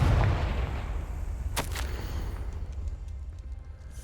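In Hogwarts Legacy, a Confringo blasting spell goes off, opening with a deep booming explosion that rolls into a sustained rumble, with a sharp crack about halfway through.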